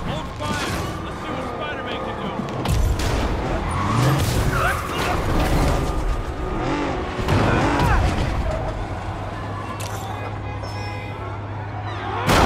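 Reckless drivers in a car chase through the city streets in Marvel's Spider-Man skid with screeching tires, amid engine roar, crashes and impacts, with voices talking over the commotion.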